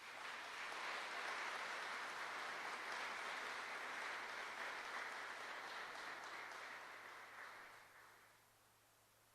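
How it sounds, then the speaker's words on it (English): Sustained audience applause at a ceremony honoring 110 Black soldiers granted clemency after the Houston Riot, a broad even roar of clapping that holds steady for several seconds before gradually thinning and fading out near the end. "Please give them all a round of applause."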